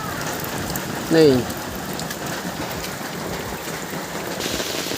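Steady rain falls outdoors in a village, a continuous soft patter on surfaces throughout, with a single brief voice heard near the start.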